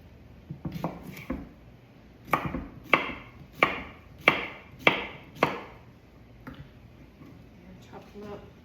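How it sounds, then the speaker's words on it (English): A knife chops vegetables on a cutting board in a series of sharp, evenly spaced thuds, close by, with a few scattered softer taps around them. "Chop them up."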